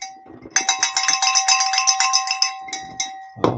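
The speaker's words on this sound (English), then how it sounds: "Come on, ring that bell." A bell is rung rapidly by hand during a live online sale, a bright metallic clanging repeated in a quick, slightly uneven run for about two seconds, followed by a few softer taps.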